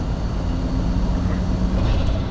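A turbocharged BMW E34 535i with the M30 B35 straight-six, running as a loud, steady low rumble from close by, holding an even drone with a faint whine on top and no one speaking.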